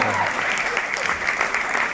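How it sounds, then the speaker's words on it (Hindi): An audience claps at a national poetry recital (kavi sammelan) held at Kurukshetra University, a brief, full burst of applause with a voice heard faintly over it. "तालियां आनी चाहिए इस पे।"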